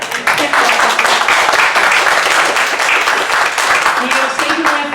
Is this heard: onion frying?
no